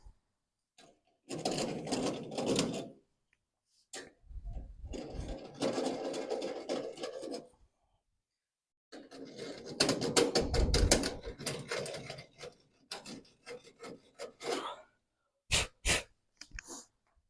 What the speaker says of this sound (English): if you don't have one of these deburring tools, get one.